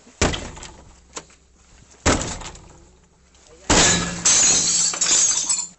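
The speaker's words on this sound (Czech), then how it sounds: "tak vyrazíme dveře." Police officers force open a locked apartment door, with a sharp blow at the start, a second hit around two seconds in, then a sustained loud crashing and splintering as the door gives way.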